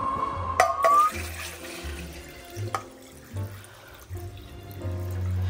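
Water from a tap runs in uneven spurts while rice is washed in a kitchen, with clinks and low gurgling pulses.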